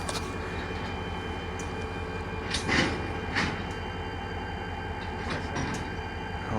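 A stopped cargo train sits on the tracks, a steady low mechanical rumble and hum with a few brief metallic clanks and hisses, heard close and fairly quiet.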